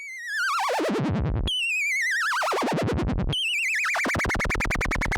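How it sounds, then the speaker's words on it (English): Warbling synthesized sine tones from a modular mixer sweep downward in pitch with rapid vibrato, restarting several times and speeding up into a dense, buzzy electronic wobble. "it's another sine wave running faster. Let's add that into the mix"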